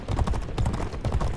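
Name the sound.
horse galloping in G1 Jockey 4 racing video game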